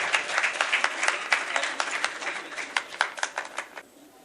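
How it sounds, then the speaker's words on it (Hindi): An audience at a Delhi mushaira claps to welcome a poet, a lively patter of many hands at moderate distance that gradually thins and fades out. "सिर्फ आपकी तालियां उनका इस्तकबाल कर सकती हैं।"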